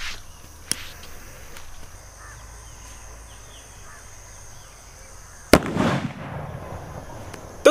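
A sutli bomb firecracker blasts inside a black tyre outdoors. One sharp, loud explosion partway through gives way to a rumbling decay, with crows cawing faintly beforehand and another brief pop at the very end.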